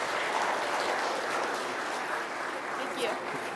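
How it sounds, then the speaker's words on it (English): Applause from the crowd at a breeding and market goat show at the North Idaho State Fair, a steady wash of clapping that lasts throughout, with a voice speaking over it. "Let's give all three of these exhibitors a big round of applause"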